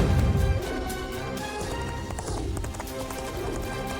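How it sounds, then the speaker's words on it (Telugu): A horse's hooves clip-clopping at a steady trot in a kids' cartoon about riding practice, the rhythmic clatter set over a background music bed, with a brief heavier thump at the start. "గుర్రం సవారీ చేయడానికి ప్రాక్టీస్ చేస్తున్నాను"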